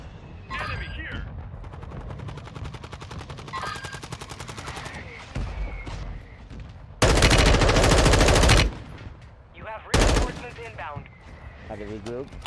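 Loud bursts of rapid automatic gunfire and booming mortar impacts in a military shooter video game, with voices over radio chatter between the blasts.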